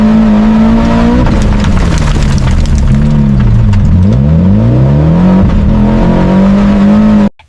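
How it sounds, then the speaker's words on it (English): An AI-generated rally car races at full speed along a muddy forest track, sliding through corners. Its engine roars loud and close throughout, revving up and down in sweeping pitch changes before cutting off abruptly at the end. "we've got a rally car flying through a muddy forest track at full speed, sliding around corners"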